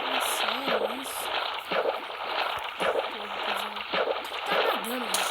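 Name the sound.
character swimming in water in Minecraft video game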